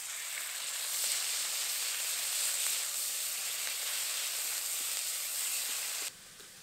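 Coarsely ground onion paste sizzling in hot oil tempered with dried red chillies and nigella seeds, a steady soft frying hiss that cuts off sharply near the end.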